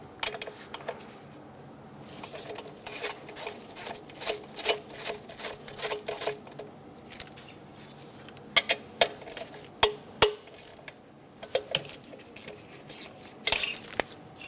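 Metal clicks and scrapes from a 12mm socket ratchet loosening the plenum cover bolts on a 2003-2007 Honda Accord 3.0L V6, with a busy stretch of irregular clinks and rasps, then sparser sharp clacks near the close.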